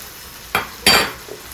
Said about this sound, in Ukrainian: ретельно це все перемішую.